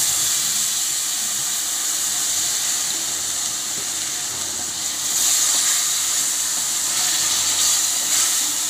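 Blended tomato puree sizzles loudly and steadily in a pan of sautéed onions while egg gravy is being cooked, the hiss swelling partway through and holding on without pause.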